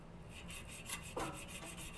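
Sandpaper rubbed back and forth over metal to clean it before brazing, a faint, quick rasping scrub with rhythmic strokes, close by and without talk.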